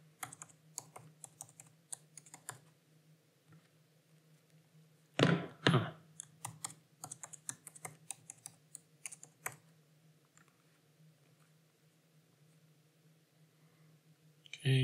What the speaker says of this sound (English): So we'll type in my details here. Then password.